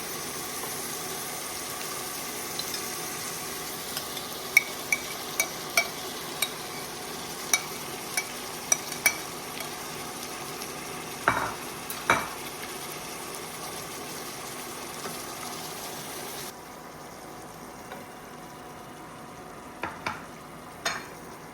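A pot of maple New England chili being stirred, with irregular scraping and knocking of the spoon against the pot, fairly faint over a low steady background hum, with no talk.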